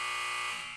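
A loud, steady electronic buzzer blares for under a second, a harsh continuous tone that starts to fade at the end.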